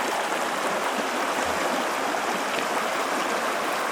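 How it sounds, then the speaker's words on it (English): Crown Creek flowing over a trail stream crossing near Tehipite Dome, a steady broadband rush of water that stays even and close throughout with no voices. "Here's Crown Creek."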